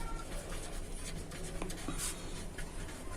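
A pen scratches across paper while someone writes a pipe-fitting formula for an unequal lateral tee branch cutback, soft continuous close strokes with a few faint taps.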